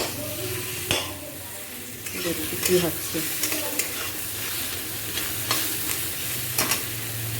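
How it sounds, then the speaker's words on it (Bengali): Vegetables fry in a pan, sizzling steadily while a spatula stirs them in several distinct scraping strokes, up close. A voice speaks briefly over the cooking. "ভাজা হোক"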